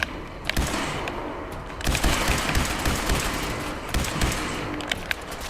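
Shotgun blasts in the horror video game Ghoul Hunting, several sharp booming shots scattered over a dense, noisy game soundscape, loud and close, with no talk over them.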